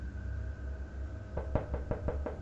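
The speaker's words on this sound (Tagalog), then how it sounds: "May kumatok sa pinto ha." Knocking on a door: five or six quiet, evenly spaced knocks arriving after a stretch of low background hum, with no voices.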